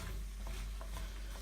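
Pumpkin pieces stirred in a saucepan for soup, giving a soft, continuous scraping and faint sizzle with small knocks of the spoon against the pan, close and steady with no talking.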